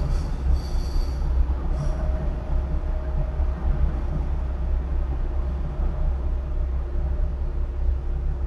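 A São Paulo metro train rolls past near Armênia station, a continuous heavy low rumble with faint wheel squeal, loud and steady, and no voices.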